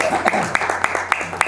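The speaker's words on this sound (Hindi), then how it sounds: "ताली बजाओ यार।" Audience members at a Bollywood film launch clap in a loose, regular rhythm, sharp claps about every quarter second over someone talking.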